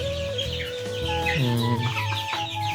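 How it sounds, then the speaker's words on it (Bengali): Chickens in a poultry shed, a flock roughly twenty-two days old, clucking and squawking close by, with one bird's call rising sharply while it is being grabbed, over a steady hum. "সো চলেন একটা মুরগি ধরি এইখান থেকে কোনটা ধরা যায়"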